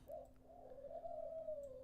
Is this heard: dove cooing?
yes